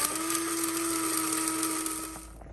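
A kitchen blender grinds ingredients down to a powder for Ghanaian oblayo, a loud, steady whirring drone with a high mechanical whine that runs unbroken for about two seconds and then cuts off.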